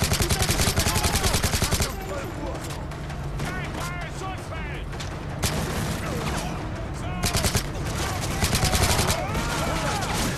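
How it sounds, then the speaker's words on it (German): Rapid gunfire in the video game Call of Duty: Modern Warfare 3, with a dense automatic burst at the start followed by scattered shots and clattering effects throughout, loud and continuous. "Wo hat der jetzt geschossen?"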